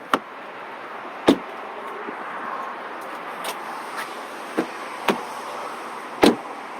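Car doors on a 2019 Audi Q3 shut several times in a row, each giving a short, solid thump with quiet gaps between the closes, heard close up.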